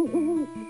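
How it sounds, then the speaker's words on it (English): A soft owl hoot in a storybook night scene, a single sustained, wavering tonal call lasting under a second, clear and close with no talk. "the soft cry of the owl"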